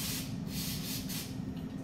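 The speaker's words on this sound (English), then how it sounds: "Just a little brake cleaner." Brake cleaner sprays from an aerosol can onto a part unbolted from a Dana 44 rear axle, a steady close hiss running unbroken for about two seconds with no talking.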